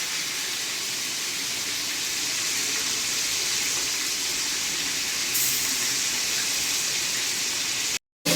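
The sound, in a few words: hilsa fish frying in oil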